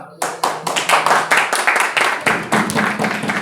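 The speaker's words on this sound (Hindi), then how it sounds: "भाई पंक्तियाँ अच्छी लगे तो थोड़ा तालियों से" Students in a classroom lecture on Hindi poetry clap at the teacher's request: a loud, close burst of distinct, quick hand claps in an uneven rhythm that continues without letting up.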